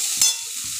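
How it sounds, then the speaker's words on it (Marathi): A potato mixture with turmeric and asafoetida is stirred in a pan for a chutney-bhaji dosa filling, a brief close scrape of the spoon against a steady soft sizzle. "हिंग टाकून ते पुन्हा एकदा ढवळलं जाणार आहे"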